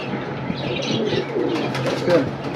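Pigeons in a collection offered for sale coo close by, with soft overlapping warbling calls and a few brighter chirps rising over a low background murmur.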